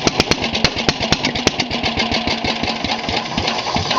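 A moped engine running on a homemade vapor carburetor putters loudly and steadily up close, with rapid regular firing pulses and a buzzy mechanical drone.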